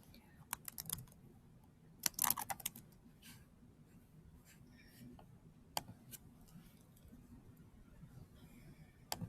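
Keys clatter on a computer keyboard in quick, irregular bursts, with a dense flurry near the start and sparse single taps afterwards, faint and close, with no voices.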